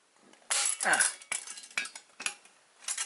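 An MSR Stowaway stainless steel camping pot with a folding handle and lid is handled close by, giving a run of bright metallic clinks and clanks in several separate bursts.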